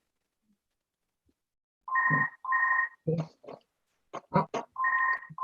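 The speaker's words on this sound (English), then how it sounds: "Somebody's phone's ringing." A mobile phone rings in a council meeting room, sounding several two-tone electronic bursts in a steady pattern while a person briefly speaks between the rings.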